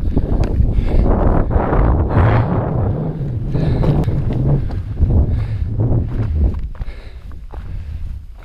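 Strong gusting wind buffets the microphone on an exposed mountain summit, a loud, continuous roar that swells and eases, with faint footsteps or rustling close by and no talk.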